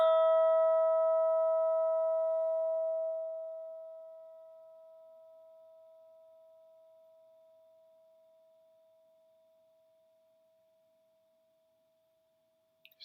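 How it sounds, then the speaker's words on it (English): A single mindfulness bell is struck once and rings out as a clear, pure tone, then decays slowly into near silence over about ten seconds, with no voices over it. "We're going to start with some mindful listening and the sound of the bell."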